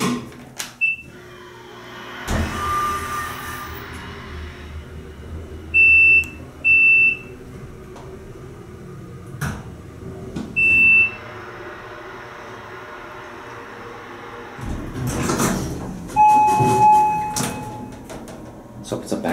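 An Otis hydraulic elevator with relay logic runs in a resort building, its motor humming low while a door slides and a buzzer beeps in several short bursts, with a person talking briefly over it.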